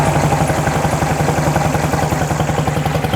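A 1972 VW Beetle with a dual-carburettor engine idles roughly with its cooling fans running, a loud, close, evenly pulsing chug throughout.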